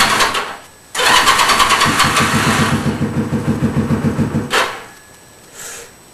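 A CZ motorcycle engine is cranked with the choke about half on, churning in a fast rhythmic series of close, loud turnovers that never catch, then falls quiet.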